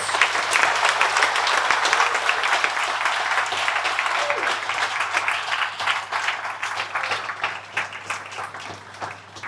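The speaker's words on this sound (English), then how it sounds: "Jordan Smith, big round of applause" Audience applause at a company monthly meeting, dense sustained clapping from a crowd that holds strong, then thins and tapers toward the end.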